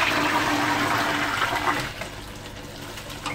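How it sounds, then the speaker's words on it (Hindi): A toilet flushes from the tank, a loud close rush of water that eases into a softer draining swirl after about two seconds. "बस अभी उसको फ्लैश कर देने में, टैंक से फ्लैश कर देने में।"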